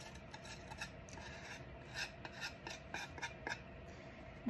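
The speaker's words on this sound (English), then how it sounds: "I think I can scrape off any excess" Excess material is scraped off a pottery grinding bat, a faint, close, rasping scrape repeated in short uneven strokes.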